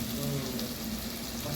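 Onions with ginger-garlic paste sizzling in a pan for a salmon fish biryani, a steady close hiss of frying with a low hum underneath, no talk.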